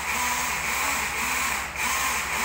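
A power drill runs continuously during electrical work, a steady whirring buzz with a faint repeating pulse underneath, loud and close with no speech.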